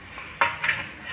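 Onions frying in ghee in a pan for lauki gosht, a soft steady sizzle with a couple of brief stirring scrapes close by, no talking.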